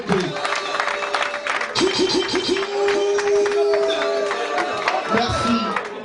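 An audience at an anniversary celebration evening claps and cheers, a busy wash of applause and crowd noise mixed with music and nearby voices.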